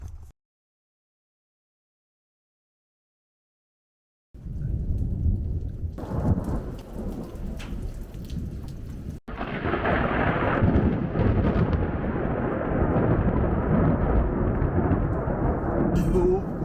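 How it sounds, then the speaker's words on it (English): A huge lightning strike brings a sudden, loud crack and rolling thunder over steady heavy rain at an off-grid homestead. A short silent gap comes first, then the rain roar, then a sharp burst that swells into a dense, sustained rumble. "That was one of the biggest lightning strikes I've ever seen in my life."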